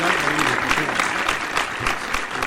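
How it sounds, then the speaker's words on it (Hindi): Loud, dense applause from a mushaira audience at a youth Urdu poetry gathering in New Delhi, a steady roar of many hands clapping without pause, with faint voices underneath. "एक बार जोरदार तालियों से दोबारा इजाज़त दीजिए"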